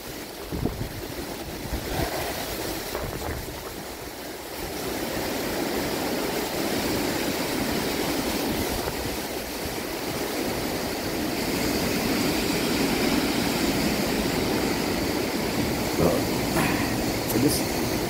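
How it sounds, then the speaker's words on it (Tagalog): Strong typhoon wind on a mountaintop roars steadily against the microphone, a constant low buffeting rumble that swells slightly louder toward the end. "The wind is blowing."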